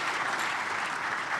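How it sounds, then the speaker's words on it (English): Steady, dense applause from a conference audience at an African peacekeeping panel, clapping continuously throughout at an even level with no voices on top. "Give him a round of applause"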